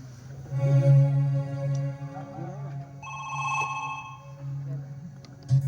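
A telephone rings on an outgoing call, giving tonal ringback beeps with a sustained buzzing ring in the middle, moderately loud, while people talk over it.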